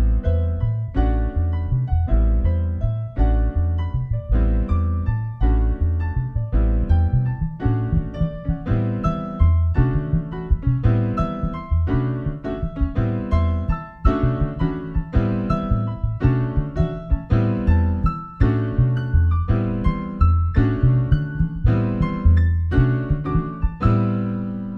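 Piano comping with a repeating six-quarter-note ostinato in a 6/8 Latin jazz groove, rhythmically loose, with steady chordal stabs over a busy low-register bass line, loud and continuous throughout.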